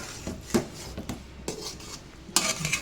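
Shrimp being stirred in a pan for a bottle gourd and shrimp curry: a metal utensil scrapes and clinks against the cookware in close, irregular strokes. Each sharp knock stands out clearly, with no talking.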